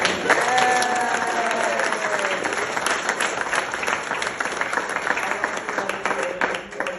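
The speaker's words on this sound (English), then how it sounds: "Can we give a round of applause to Giovanni?" An audience applauds a person named Giovanni, a full, sustained round of clapping from a crowd, loud at first and tapering slightly, with a voice briefly audible over it.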